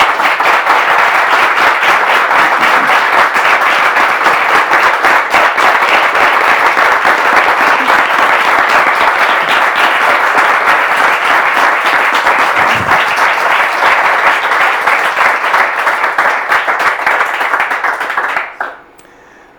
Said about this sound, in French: On va la faire entrer avec vos applaudissements,